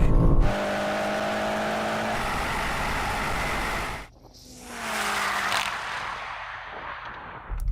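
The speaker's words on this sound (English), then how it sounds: "this car was like bucking and spinning its wheels and just a little bit chaotic off the line" BMW M8, Porsche Panamera GT-4 and Mercedes-AMG GT launching off the line in a drag race, with a loud, sustained engine roar and tire-spin noise that briefly dips before surging again.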